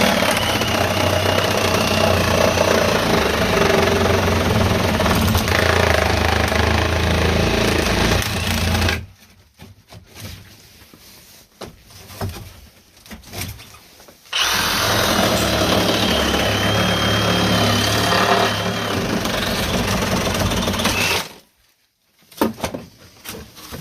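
A Milwaukee M18 Fuel Sawzall reciprocating saw cuts loudly up close in two long bursts, its buzzing stroke steady and harsh, separated by a quieter pause of handling noise, then cutting off abruptly near the end.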